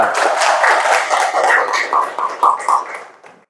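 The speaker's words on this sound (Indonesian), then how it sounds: "Tepuk tangan untuk kelompok 2." Schoolchildren in a classroom clap for a group, a loud dense burst of many hands that thins into a few scattered claps and fades out near the end.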